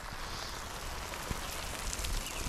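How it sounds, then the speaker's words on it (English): Rain falls steadily on a backyard on a wet day, a dense even hiss of drops with occasional louder splats, close and continuous with no voices. "it's got a decent rain today"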